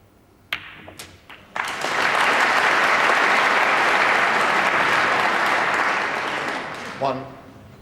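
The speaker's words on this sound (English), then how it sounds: "Well, applause" A snooker crowd at the 2006 UK Championship final breaks into sustained applause, a dense, loud wash that builds after a few sharp knocks and fades gradually, with a commentator's voice heard near the end.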